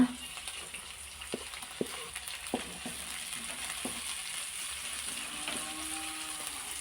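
Vegetables for fried rice frying in a pan give a steady, close hiss of sizzling oil, broken by a few light clicks and taps from a utensil; no one speaks.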